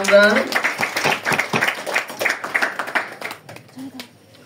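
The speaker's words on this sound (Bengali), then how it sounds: "এবার একটু জোরে হাততালি দেই" Guests at a Christian wedding ceremony clapping, rhythmic hand claps close by that run under people talking and then taper off.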